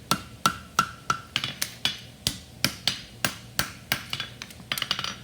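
Metal is struck by a hammer during blacksmith forging, a series of sharp ringing blows at an irregular, fairly quick pace, close and clear with no voices.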